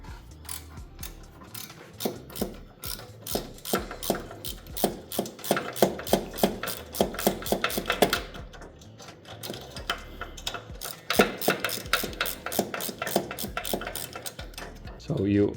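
A ratchet turns a 10 mm bolt on the rear axle of a classic Volvo S70 or V70, giving bursts of fast, close clicking that stop and start across the clip, with faint background noise between them.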